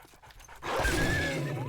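A zombie dog in the survival game 7 Days to Die pants in quick, breathy rasps, close and fairly loud, after a brief quieter lead-in.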